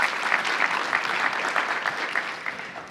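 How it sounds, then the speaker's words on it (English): Conference audience applauding a panel of speakers at a business event, a close, lively round of many hands clapping steadily throughout. "Please give them a round of applause."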